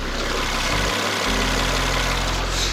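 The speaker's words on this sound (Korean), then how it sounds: "영상으로 엔진 소음 한번 담아보도록 하겠습니다" A gasoline SUV engine idles up close with the hood open, a smooth steady hum with a brief dip in its low drone before settling again.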